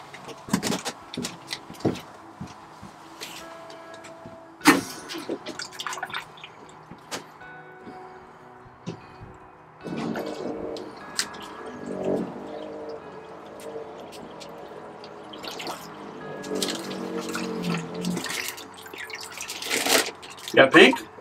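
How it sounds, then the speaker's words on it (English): A marine head toilet aboard a Ranger Tug R27 outboard cruiser is flushed repeatedly during winterizing until pink antifreeze comes through. Watery gurgling bursts come in rough, irregular spells, partly under conversation. "go into the head and flush the toilet"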